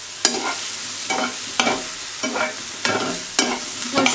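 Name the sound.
vegetables sautéing in a pan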